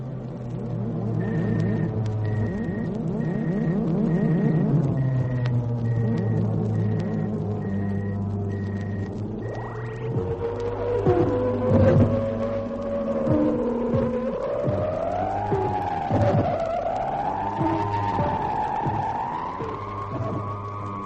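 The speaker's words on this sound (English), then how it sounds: "Chief, we'll drop back below light speed in about 3 minutes." A radio-drama spaceship effect of dropping below light speed: a loud, sustained electronic hum with steady low drone, beeping tones early on, then sweeping, warbling pitches that rise and fall, continuous throughout with no voices.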